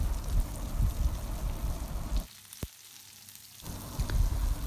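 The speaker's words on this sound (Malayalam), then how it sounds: "ഒഴിച്ചിട്ട് ഞാനിത് വറക്കാനായിട്ട് വെച്ചിട്ടുണ്ട്" Prawns fry in a pan as a quiet, steady sizzle and crackle, with a short drop to near silence partway through before the frying hiss returns.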